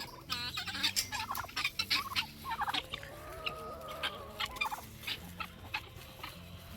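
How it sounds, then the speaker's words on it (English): A flock of turkeys gobbling loudly and repeatedly close by, mixed with clucking and chattering guinea fowl calls in a busy barnyard chorus. "I gotta let these turkeys out."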